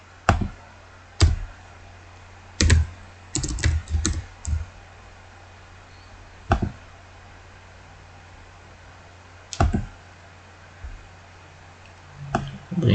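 Bursts of keystrokes on a computer keyboard, loud and close, come in short clusters separated by pauses of quiet room hum, as someone types and stops repeatedly.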